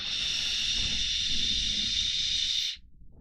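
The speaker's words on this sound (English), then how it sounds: "if I give you another puff at 25 watts" A single long hissing draw on a UD Gaxi vape fitted with a 0.8 ohm core at 25 watts, steady and close for nearly three seconds before cutting off sharply.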